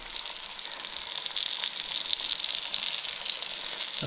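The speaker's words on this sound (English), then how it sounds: "That's going to go in there, 5 rashers at a time, and we'll fry that off." Bacon rashers frying in a pan, five at a time, for a Guernsey bean jar, with a steady, close, loud hiss and crackle of sizzling fat running unbroken throughout.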